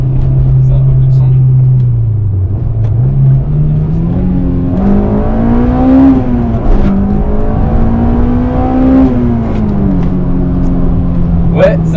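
A Honda Civic EG6 engine pulling under acceleration, a loud, droning in-cabin hum rising and falling in pitch through gear changes, with people talking over it.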